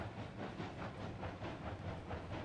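Steam locomotive rolling on rails in the Railroads Online video game, the Monty engine low on boiler pressure; a steady, faint rumbling hiss with soft rhythmic clatter and no voices.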